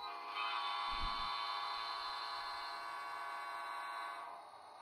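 A model railroad train sounds a sustained horn as it crosses an intersection, a steady reedy blast held for several seconds with a faint low thump near the start, fading slightly at the end.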